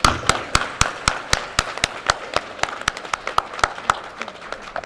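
An audience at an Asian Chamber of Commerce entrepreneurship awards evening gives a round of applause: sharp, regular hand claps ring out close and loud, with scattered clapping beneath and no speech.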